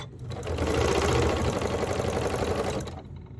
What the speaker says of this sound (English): I'm going to bring it to my sewing machine, and I'm going to start sewing from corner to corner diagonally.